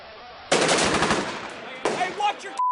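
Machine gun fire during combat in Fallujah, Iraq, two close, loud rattling bursts of rapid shots separated by a short pause, with a faint tone at the end.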